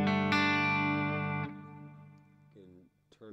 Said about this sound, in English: Let's say I wanted to add in some reverb here.